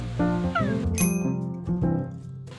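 A black cat at a forest campsite meows several times in short, close, plaintive calls, with a bright metallic ding ringing out between them.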